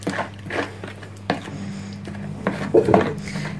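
A spoon clinks and scrapes in a bowl, mixing a Moroccan roast chicken marinade with saffron soaked in water. Sporadic close knocks and taps, with a busier cluster near the end and no talking.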